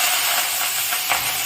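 Mustard seeds and urad dal spluttering in hot oil in a pan while cooking beetroot rice, a loud, continuous close sizzle with faint pops and no talk.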